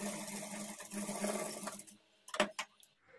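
A sewing machine runs steadily while double-stitching a blouse, a continuous close whirring hum for about two seconds, then it stops and a few sharp clicks and taps follow in near silence.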